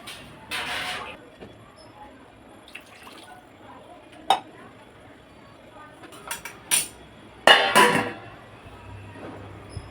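Water is poured into a pot for basmati rice in a home kitchen, two short splashing pours separated by sharp clinks of utensils and vessels, close and fairly loud against a quiet background.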